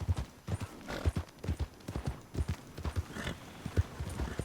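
A horse runs and jumps in Red Dead Redemption 2, its hooves beating out a steady rapid clip-clop that stays close and clear throughout, with no talk over it.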